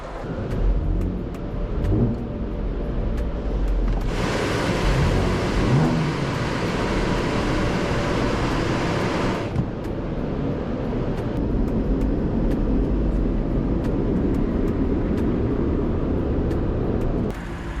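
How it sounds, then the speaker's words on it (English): Engine of a supercharged Audi S4 revs hard in an enclosed space, a loud sustained roar that swells for several seconds then eases back to a steady rumbling idle. "See what it sounds like if I rev it in here."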